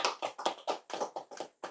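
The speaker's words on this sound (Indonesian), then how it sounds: "Tepuk tangan." Applause at a religious talk, a burst of hand claps in an irregular rhythm, fairly close and moderately loud, with no voices over it.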